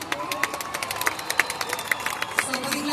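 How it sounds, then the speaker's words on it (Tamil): Audience at a stage event in Nagercoil cheering and clapping; a steady wash of crowd noise with distinct claps scattered across it, moderately loud and unbroken. "எவ்வளவு ஒரு ஆரவாரம்"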